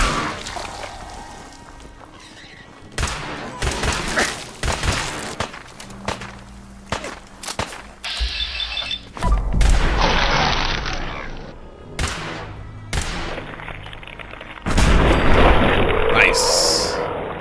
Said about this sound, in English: Clean explosion, see?